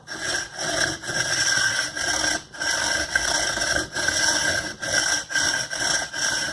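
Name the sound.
saw blade cutting a 2 mm wall carbon fiber tube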